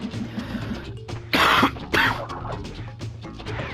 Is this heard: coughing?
yes